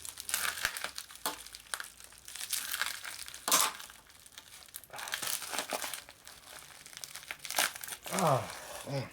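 A plastic baggie holding a cad-plated shovelhead intake manifold part is opened, giving bursts of close crinkling and rustling across the clip, with an air compressor humming in the background.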